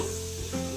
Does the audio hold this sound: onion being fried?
yes